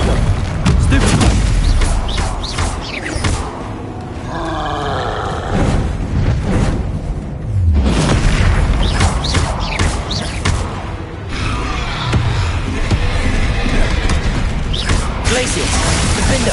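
Spell blasts and magical impacts from Hogwarts Legacy burst out loudly and repeatedly in fast combat, a dense run of booms and crackling hits with a voice shouting over them.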